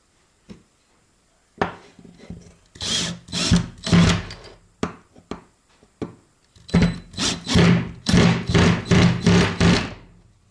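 A drill drives a self-tapping screw with a press washer into wood in bursts of rising whirring, with short pauses and a few knocks between; an early cluster of drilling, then a longer dense run, loud and close.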